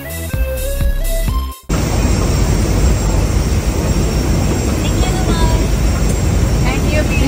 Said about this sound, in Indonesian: pesawat Etihad yang kami tumpangi akhirnya merapat di Terminal 3